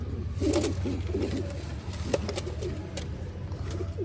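Pigeons coo in soft, repeated throaty phrases nearby in a loft, with a few faint scuffs and clicks in the background.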